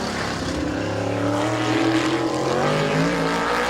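Car 88's race engine drones loudly at Midvale Speedway during a timed qualifying lap, a steady, sustained pitch that rises slightly as the car nears. No one speaks.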